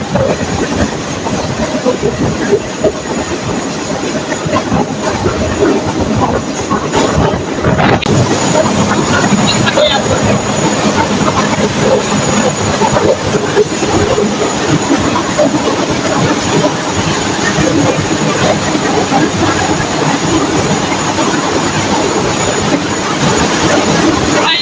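A passenger train between Chuadanga and Alamdanga in Bangladesh rumbles steadily from start to end, with rail clatter and wind buffeting the microphone throughout.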